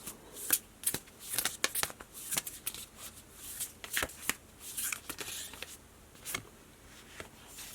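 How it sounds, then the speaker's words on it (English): Tarot cards are shuffled and pulled by hand, a close, crisp run of rapid papery riffles and slaps that comes in uneven bursts, with no voice over it. "let's pull you guys just a few more cards."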